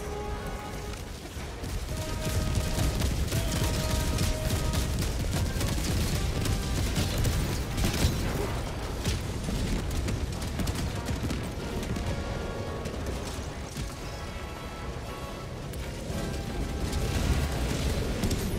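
Orbital strike explosions in the shooter Helldivers 2 form a dense, sustained roar of blasts and rumbling gunfire, loud and unbroken throughout, with layered booms and crackling debris.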